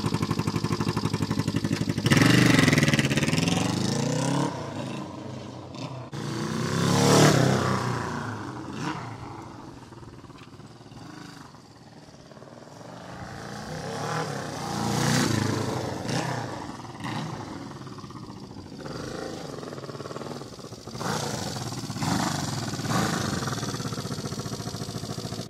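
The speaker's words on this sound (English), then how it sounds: "Today we got a 72 Honda CB350 twin. It's got a little 2-into-1 megaphone exhaust." A 1972 Honda CB350 twin motorcycle with a 2-into-1 megaphone exhaust runs close by, its engine rising and falling through several loud revs over a steady idle, with no talking.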